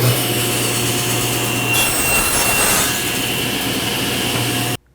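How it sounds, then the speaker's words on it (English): A table saw rips wood into a tiny 1/8 by 1/8 inch strip using a GRR-RIPPER push block, a steady loud blade whine throughout the cut that stops abruptly at the end. "Let's go ahead and rip it down again to 1/8 by 1/8"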